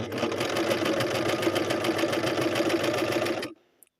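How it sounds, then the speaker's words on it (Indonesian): Sewing machine stitching a hem on fabric, running in a fast steady mechanical rattle at close range for about three and a half seconds before stopping abruptly, followed by a faint click. "Kita jahit dulu."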